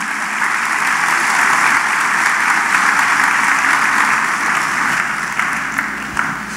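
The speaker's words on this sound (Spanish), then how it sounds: "Dale un aplauso de alabanza y adoración a Él." A church congregation bursts into sustained applause of praise, a broad even roar of many hands clapping that fades slightly toward the end.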